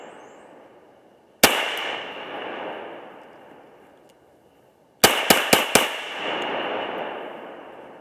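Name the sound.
Ruger P95 9mm semi-automatic pistol gunshots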